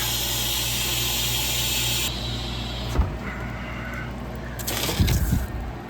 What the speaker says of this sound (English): Gotta release the vacuum in the machine.